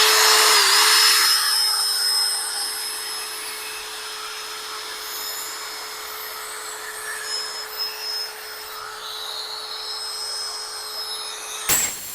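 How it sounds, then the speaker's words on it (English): Power polisher working compound over the headlight of a 2009 BMW, a steady close whine holding one pitch with a brief dip near the start and a sharp knock at the end, no voices. "Now we're gonna polish the headlight"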